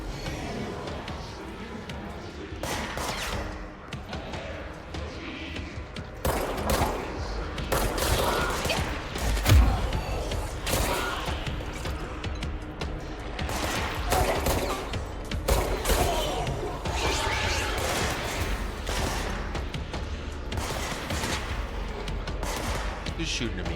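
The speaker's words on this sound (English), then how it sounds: "Who's shooting at me?" Dense gunfire and shooting bursts in the video game Control, loud and sustained throughout with repeated sharp cracks over a constant mechanical rumble, and a voice talking now and then.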